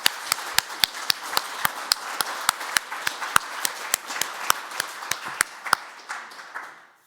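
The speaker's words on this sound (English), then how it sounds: "so big round of applause for Eoin." Applause at an annual customer service conference, with one nearby pair of hands clapping in a sharp, even rhythm over a softer wash of clapping from the room that fades toward the end.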